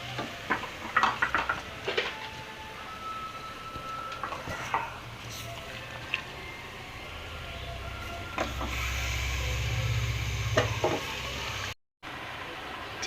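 Chicken tipped into masala in hot oil for a Tamil chicken gravy, giving a faint, steady sizzle with scattered clinks of a spoon against the pan, growing a little fuller toward the end.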